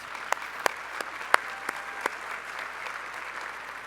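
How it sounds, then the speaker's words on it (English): A handful of sparse, separate claps from an audience at a Rotary gathering, spaced irregularly over a quiet room tone. "give her a round of applause"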